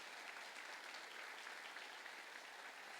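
A church congregation gives the Lord a loud round of applause during a sermon, with a dense, continuous wash of clapping that is quiet and distant.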